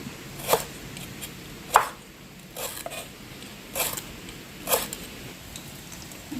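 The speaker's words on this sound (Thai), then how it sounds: "หั่นหั่นซอยซอยเป็นแว่นเป็นแว่นลงใส่นะจ๊ะพี่น้อง" Five sharp knife strokes slice crisp vegetables into rings on a board, spaced a second or so apart, close by with a quiet room behind.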